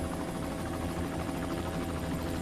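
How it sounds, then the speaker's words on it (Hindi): A helicopter drones with a steady, dense rotor and engine hum as it descends to land, loud and continuous throughout with no voices. "हेलीकॉप्टर नीचे लो।"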